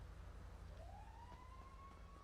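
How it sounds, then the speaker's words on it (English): A distant police siren in a video game slowly rises and holds a steady wail, faint beneath a constant low rumble. "I do hear sirens"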